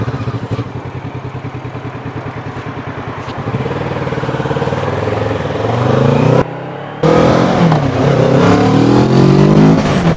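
Kawasaki Z650 motorcycle idling with a steady close chugging pulse, then revving up and pulling away loudly, its engine note rising through the gears after a brief gap.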